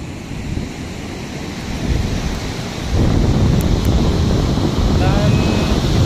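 Steady roar of surf rolling onto Nunggalan Beach in Bali, mixed with gusting wind buffeting the microphone; the wash grows louder and fuller partway through.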